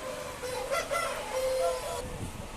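A rooster crows in drawn-out calls amid a busy barnyard hum at a poultry farm in Tamil Nadu, with other chickens faintly clucking in the background.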